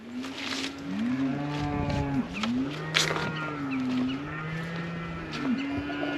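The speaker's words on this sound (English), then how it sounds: "Hungry cows over there." Hungry farm cows mooing at feeding time, several loud, close moos following one another and overlapping in a steady, continuous chorus.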